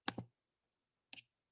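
Two sharp mouse clicks in quick succession, then a single click about a second later, close and crisp against silence, made while working in Quizlet on a computer.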